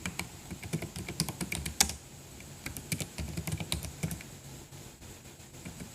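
Typing on a computer keyboard at close range, quick irregular bursts of key clicks with brief pauses, fairly quiet and with no voice.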